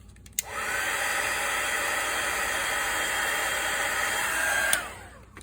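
A hair dryer drying paint on an altered playing card for Valentine's Day, switching on with a click and blowing a steady, loud, close airy whoosh for about four seconds before cutting off.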